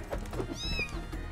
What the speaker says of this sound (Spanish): ¡Ay, gatito!